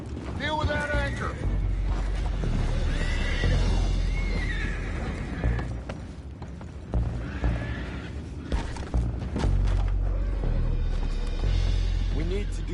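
Frightened horses neigh and whinny repeatedly in a Red Dead Redemption-style game scene aboard a boat, mixed with creaking, clattering hooves and mechanical noise, as characters talk over it.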